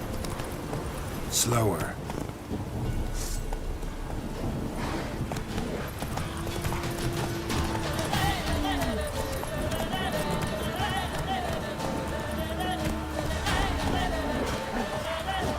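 Roach the horse gallops with steady clip-clopping hooves in The Witcher 3, the hoofbeats continuous and close under game music and ambience, with a brief spoken word and occasional snorts.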